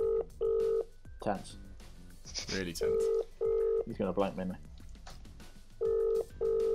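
Ringback tone of an outgoing telephone call: three cycles of paired electronic ring bursts, steady and clear, with someone talking in the gaps between them.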